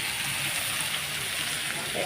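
A spoon stirs turmeric-coated fish through spices in a sizzling pan, giving a steady close frying hiss with a soft scrape near the end, no voices.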